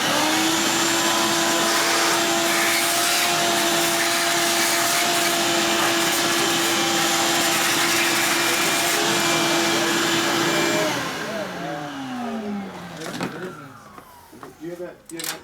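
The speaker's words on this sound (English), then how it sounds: "Vacuum now. Somebody made a mess over here." A vacuum cleaner runs loud and steady with a sustained whine close by, then switches off and winds down while people talk in a motorcycle repair garage.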